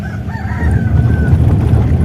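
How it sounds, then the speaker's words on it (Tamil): A rooster crows loudly and close by near a house, one drawn-out call over a low, steady background rumble. "வீட்டுக்கிட்ட யாரோ கோழி வச்சிருக்காங்க."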